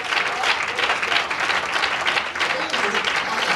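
A congregation claps its hands during an evangelist's preaching service, a loud, continuous wash of applause that holds evenly for the whole stretch with no pause.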